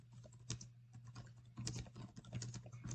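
Quiet keystrokes patter on a computer keyboard in rapid irregular bursts over a low steady hum, with no talking.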